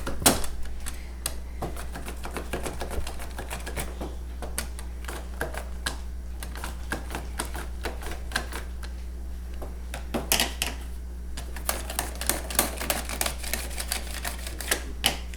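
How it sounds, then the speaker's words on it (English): A handheld slicer cuts cucumbers for pickles, producing rapid, irregular crisp clicks and snaps close up over a steady low hum, with quicker clusters of strokes toward the end. "just slice your cucumbers. This makes it a whole lot easier than cutting."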